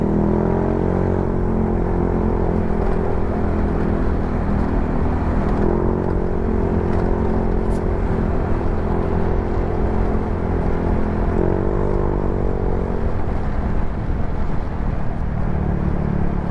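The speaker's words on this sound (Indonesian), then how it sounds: "Suaranya juga merdu nih knalpot." A motorcycle with an F2 Racing aftermarket exhaust idles steadily with a deep, throaty burble, close by, with slight rises in revs and no talking.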